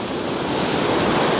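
Ocean surf washes onto the shore at Myrtle Beach, a continuous loud roar of breaking water mixed with wind buffeting the microphone, with no voices.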